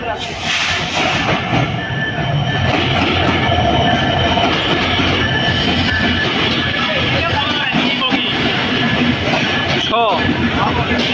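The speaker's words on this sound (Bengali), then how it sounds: "দেখেন খুব সুন্দরভাবে ট্রেন কিন্তু প্রবেশ করেছে" A train pulls into Ullapara railway station, a loud, close, continuous rumble and clatter of wheels with a brief squeal near the end, while people talk over it.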